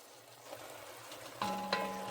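Meat sizzles and browns in a pot for tortilla soup, a soft steady frying hiss with a couple of sharper scrapes and clinks as it is broken up with a utensil.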